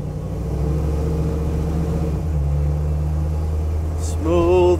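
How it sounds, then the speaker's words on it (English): A fuel-injected 5.0 engine in a 1969 Ford Bronco restomod holds a steady, deep idle rumble, then its pitch shifts down before rising sharply as it accelerates near the end. "Smooth acceleration on that pedal."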